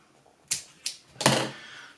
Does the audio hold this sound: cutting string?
yes